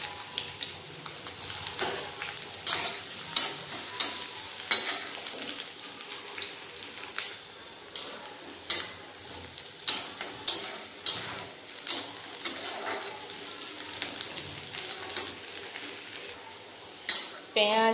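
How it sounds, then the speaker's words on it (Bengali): Garlic cloves, chopped onion and four green chillies fry in hot oil, giving a steady crackling sizzle broken by repeated sharp clinks and scrapes of stirring throughout, with no talk. "তেলের মধ্যে দেবো রসুনের কোয়া, দিয়ে দেবো পেঁয়াজ কুচি, আর দিয়ে দিলাম 4টা কাঁচা লঙ্কা।"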